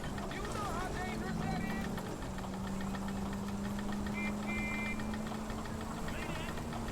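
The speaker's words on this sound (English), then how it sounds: "the car has a little bit of an engine knocking sound" Car engine in L.A. Noire running with a steady low drone and a faint knocking rattle, constant throughout with some tonal game sounds above it.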